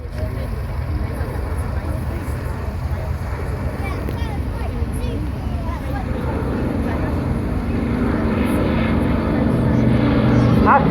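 A vintage aircraft performs a flying display at the Welshpool Air Show, its steady engine drone loud and continuous, swelling slightly toward the end as it passes closer.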